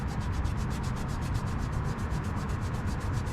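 A towel works polish onto a chrome exhaust tip in a fast, steady back-and-forth rub, close and continuous with a rhythmic swish, no talking.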